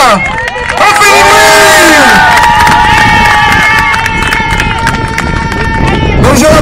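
Crowd at an outdoor bike stunt show cheering, whooping and shouting loudly, a dense, continuous roar with excited voices rising and falling close by.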